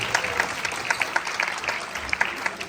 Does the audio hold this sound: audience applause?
yes